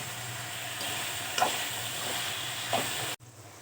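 Eggplant and soft-cooked tomatoes fry and sizzle in a pan, a steady close hiss broken by two short stirring scrapes before the sound cuts off abruptly near the end.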